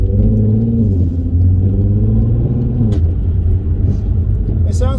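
A Volkswagen Golf R32 engine with DSG gearbox in sport mode rumbles steadily at low pitch throughout, a continuous loud drone with slight rises, while people talk over it.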